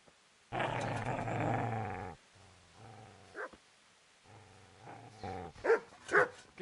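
Dog growling and barking in the video game Kingdom Come: Deliverance: a long, loud snarling growl, then shorter growls and sharp barks, with a few yips near the end.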